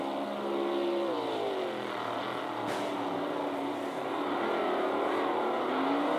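RevoSlot GT slot cars, including a JPS Supra, race around the GCSRA Valhalla Speedway track, their electric motors whining steadily and rising and falling in pitch as the cars circle, with no talk over them.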